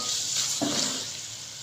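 Minced meat (keema) frying in a pan, with a steady close sizzle and a stirring scrape in the middle.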